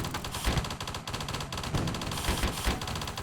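Pressure cannon towers in the Hydraulic Empire tower-defence game firing rapid bursts of dense, gun-like shots, loud and repeated in quick succession over an ongoing battle.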